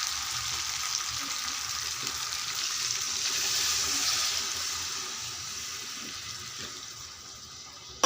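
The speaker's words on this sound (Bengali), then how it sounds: "তো আমি এখন সামান্য একটু জল দিয়ে দিব" A little water poured into frying chicken curry brings a broad, steady hiss and bubbling sizzle that swells in the middle and eases off toward the end, close and fairly loud.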